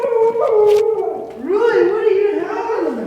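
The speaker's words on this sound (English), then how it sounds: "He's howling." A dog howls in long rising and falling wails, loud and close, with a brief pause before a second drawn-out howl in a home motorcycle shop.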